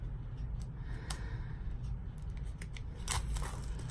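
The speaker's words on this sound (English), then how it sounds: "I'm trying to take the plastic off of it." Plastic wrap is torn and peeled off a makeup palette, heard as close, faint crinkling and sharp crackling snaps in irregular bursts, with a louder rustle near the end and no talking.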